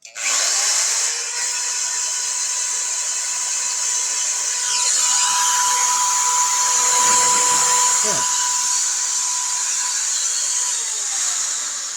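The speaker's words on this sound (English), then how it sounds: "Kara, hit the power button on that drill." A power drill runs off a 32-year-old power inverter, whirring with a high, steady whine, its pitch wavering slightly as it runs continuously for several seconds.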